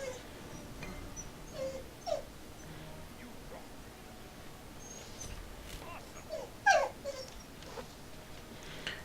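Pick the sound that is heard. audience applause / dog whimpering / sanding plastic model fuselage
dog whimpering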